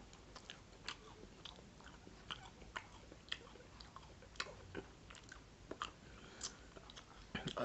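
Close, crisp bites and chewing of Turkish kadayif, a shredded-pastry dessert with pistachio, repeating as a steady series of soft crunches and wet mouth sounds, with no talking.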